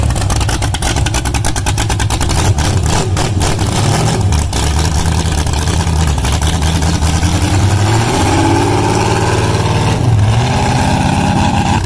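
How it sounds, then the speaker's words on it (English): A John Deere lawn mower fitted with a small block Chevy V8 roars loud and close, its engine rumbling deep and uneven, then revving with rising pitch sweeps toward the end. "Check out a John Deere mower transformed with a small block Chevy V8, starting with a deep, throaty rumble."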